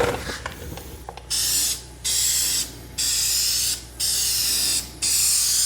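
Aerosol paint sprayed onto a 2015 Toyota bumper and mirror cap in five short, steady bursts of hissing, each about a second long with brief pauses between, close and fairly loud after a few light clicks.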